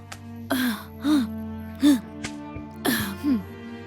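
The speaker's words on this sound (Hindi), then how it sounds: "खांसी तो आएगी ही ना।" A person in a smoke-filled house coughs and clears their throat in several separate fits over a few seconds, close by, with steady background music underneath.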